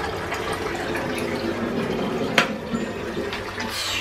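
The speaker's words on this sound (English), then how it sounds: "just rinsing out this morning's mug." Tap water runs steadily while a mug is rinsed out in a kitchen, a continuous close splashing rush with one brief clink partway through and no talk.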